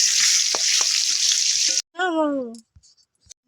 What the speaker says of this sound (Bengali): তারপরে নুন আর হলুদ দিয়ে আলুটা ভেজে নেবো